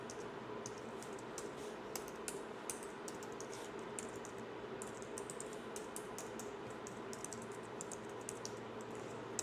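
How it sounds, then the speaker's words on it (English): Steady computer keyboard typing while personal information is entered for an LLC filing, a continuous run of quick, faint key clicks with no talking. "you're just going to type in your personal information"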